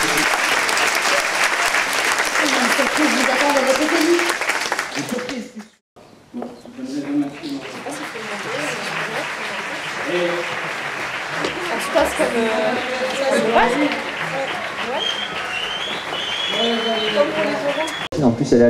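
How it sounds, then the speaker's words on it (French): Sustained crowd applause at a beauty pageant fills most of the stretch, pausing briefly near the middle, with voices and cheering mixed into the steady clapping. "Merci Estelle, on peut l'applaudir."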